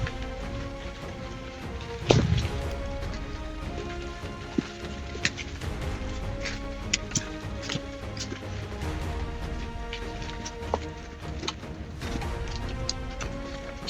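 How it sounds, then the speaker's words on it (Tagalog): Heavy rain falls steadily on a steep mountain slope, a dense continuous hiss with scattered louder knocks and thuds of drops striking nearby surfaces. "Malakas yung ulan."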